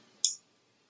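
A single computer mouse click, short, crisp and close, in an otherwise quiet room.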